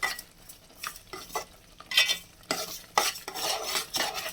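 Spice masala with tomatoes stirred in a pan for a mixed-seed gravy, uneven bursts of scraping and utensil clatter over a faint sizzle, close by and without speech.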